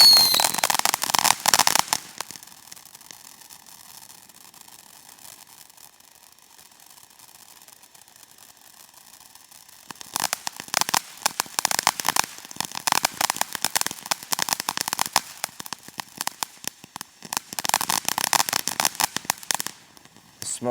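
Firework fountains from a large consumer assortment crackling in dense bursts, loud hissing pops at the start, then a quieter lull, then renewed sustained crackling, heard alone.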